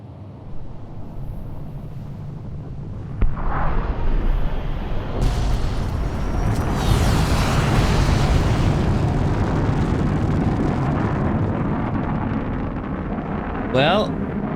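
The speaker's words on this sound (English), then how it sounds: "Launch the nuclear missile." A nuclear missile explosion in the Fallout video game, a sharp burst followed by a long heavy rumbling roar that swells and slowly fades, with a brief higher sound near the end.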